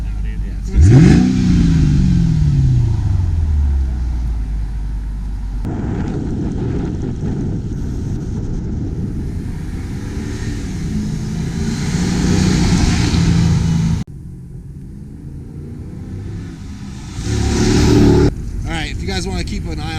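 A Mercedes C55 AMG V8 with a new exhaust starts with a sharp rising rev, then settles into a deep, rumbling idle with a couple more blips. Voices talk over it at times.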